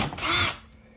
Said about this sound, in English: I just need to drill out these holes, and then I'll put the clips in